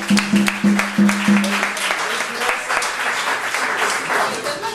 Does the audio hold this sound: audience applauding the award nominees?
yes